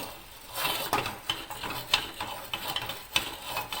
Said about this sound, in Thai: ไอ้ที่คุกคิกคุกคิกนี่ อันนี้ทำให้น้ำมันมันเกลี่ยทั่วกระทะนะคะ